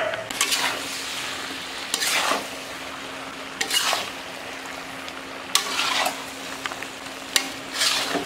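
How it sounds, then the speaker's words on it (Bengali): Shrimp, ridge gourd, okra and potato sautéed with ground coriander, cumin and salt in a pan, repeated scraping stir strokes every second or two over a soft steady sizzle, with occasional metallic knocks of the utensil. "এবার মশলার সঙ্গে ভালো করে সবজিটা একটু কষে নেব।"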